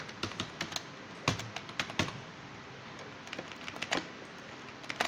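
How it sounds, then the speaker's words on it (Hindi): Keys clatter on a computer keyboard as code is typed, irregular bursts of crisp clicks with short pauses between them, close and alone. "सही कंसोल डॉट लॉग लिख देता हूँ"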